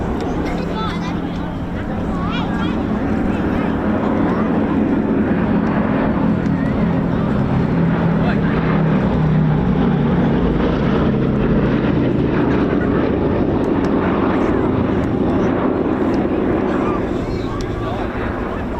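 A vintage propeller aircraft, a G version with a chin turret, flying at the RAF Cosford air show, a loud continuous engine drone with wind buffeting, heard under steady commentary.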